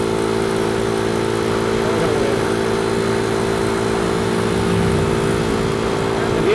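A motorcycle engine drones steadily at close range, loud and continuous, as the bike rides past with a constant hum throughout.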